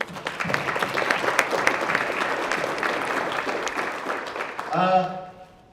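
An audience claps for veterans and their family members at a Wounded Warrior Project talk, dense steady applause that tapers off near the end as a voice briefly speaks over it.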